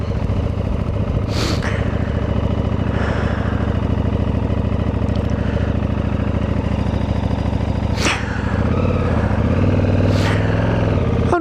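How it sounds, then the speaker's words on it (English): A motorcycle engine idles steadily while warming up on a cool morning, a close, continuous low rumble broken by a few brief sharp clicks. "the bike's taking a while to warm up"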